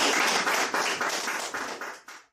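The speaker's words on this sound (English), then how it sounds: "everyone's going to give a big clap" Audience clapping at a ghost story open mic night in a public library, a dense round of applause held steady and then fading out over a couple of seconds, with no voices.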